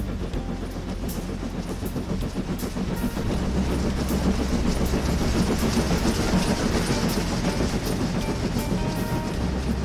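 A train passes through the Clydach Gorge in Wales, its wheels keeping up a continuous rhythmic clickety-clack over the rails with a steady low rumble, close and loud throughout.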